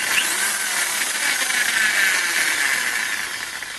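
A countersink drill bit spins at 3000 RPM while cutting, producing a continuous, bright, even whine that holds steady and loud throughout without chatter.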